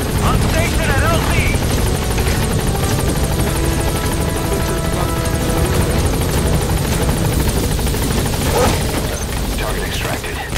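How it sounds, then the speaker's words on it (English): Helicopter from the video game Metal Gear Solid V arriving and hovering at a landing zone, a loud steady rotor drone with rhythmic blade chop filling the whole stretch, with radio voices speaking over it. "This is Pequot. Arriving shortly at LZ. This is Pequot. On station at LZ"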